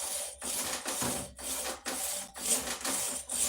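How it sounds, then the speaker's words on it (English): A Japanese pull saw cuts through wood in steady, rhythmic rasping strokes, each pull about half a second long with brief pauses between, close and fairly loud. "this is a Japanese pull saw, and these are designed to pull straight to your stomach"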